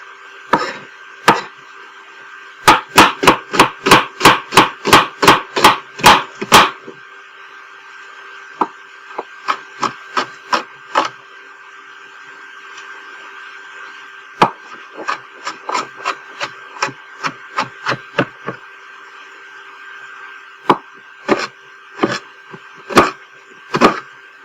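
A knife dices an onion on a wooden cutting board for chili, a long run of quick, crisp chops in rapid bursts with short pauses between, close and clear with no talking.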